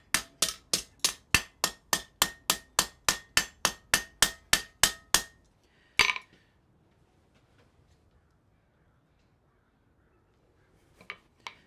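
A blacksmith's hammer planishes hot metal on an anvil in a smithy, about nineteen sharp, evenly spaced ringing strikes in quick succession, then one last heavier blow, silence, and a couple of faint taps at the end.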